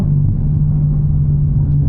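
A Chevrolet Corvette ZR1 engine drones steadily and loudly from inside the moving car, a deep, constant rumble with no clear shift break.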